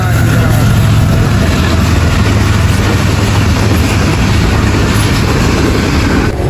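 A train arriving on a rail journey, a steady loud low rumble of wheels and engine that holds close and unbroken throughout, with faint voices beneath the noise.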